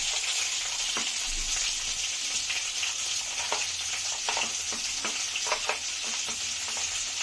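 Green, red and white fresh chillies and diced onion sizzle in hot oil, a steady bright crackle with occasional stirring clicks throughout, no voices.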